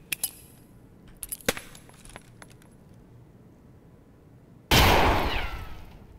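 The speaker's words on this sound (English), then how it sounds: "Let's throw a grenade. We'll see how loud this is." A grenade goes off in the Escape From Tarkov video game: a few small metallic clinks, a quiet pause, then one loud close blast that rolls off and fades over about a second and a half.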